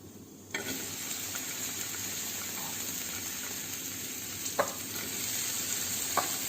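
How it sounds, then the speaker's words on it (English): Chopped onions drop into hot olive oil in a pan and start sizzling at once, a steady loud frying hiss with a few brief stirring scrapes. "We will now add the chopped onions,"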